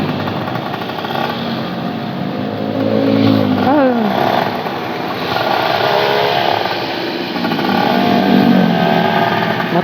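A motorcycle engine drones steadily during a ride, rising and falling slightly with throttle over continuous road and wind noise, loud and close throughout.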